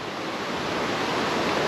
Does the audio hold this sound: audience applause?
no